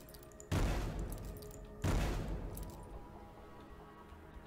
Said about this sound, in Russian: Зачем взрываю бочки?